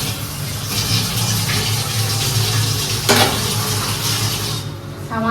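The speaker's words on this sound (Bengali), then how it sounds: "সামান্য একটু জল দিয়ে দিই, এর মধ্যে পালংয়ের এটা লেগে রয়েছে" A little water hits a hot pan of spinach for palak paneer, giving a loud, continuous sizzling rush with a bubbling pour and one brief clink partway through.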